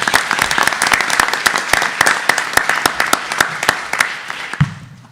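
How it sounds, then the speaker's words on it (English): Audience applause at a school district board meeting, a steady patter of many hands clapping close and lively for about five seconds before fading out, ending with a low thump. "Let's give them a round of applause."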